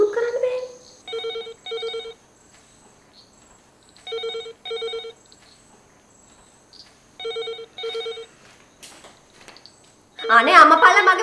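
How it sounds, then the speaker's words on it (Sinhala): A telephone rings in paired bursts, three double rings spaced evenly across a quiet room, loud and close, followed by a person speaking. "අර ෆෝන් එක රින්ග් කරලා ඇහෙන්නේ නැද"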